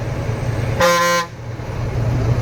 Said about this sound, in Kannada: ಇಷ್ಟೊಂದು ಹಾರ್ನ್ ಹೊಡಿತಾ ಇದ್ರು, ಸೈಡ್ಗೆ ಹೋಗಲ್ಲ ನೋಡಿ.